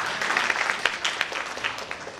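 An audience applauds in a dense, steady patter of clapping hands that fills the room for about two seconds.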